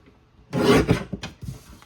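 A paper trimmer cuts strips of paper for an accordion hinge album, producing one close, brief scraping slice followed by a couple of lighter rubbing sounds, with no voice.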